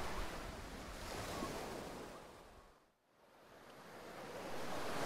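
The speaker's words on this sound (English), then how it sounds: "Oh, it's a lovely day. I love the beach." Ocean waves wash steadily onto a beach, a broad continuous roar that briefly ebbs to near quiet midway before swelling back to full surf, with some wind noise on the microphone.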